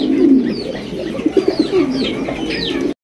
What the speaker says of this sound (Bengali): নরের ডাক দেখেন আর সাইজটা দেখেন মাশাআল্লাহ।